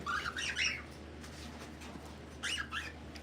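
Caged pet birds kept for breeding give two short bursts of bright chirping and squawking, faint and a little distant, separated by a quiet stretch of low background hum.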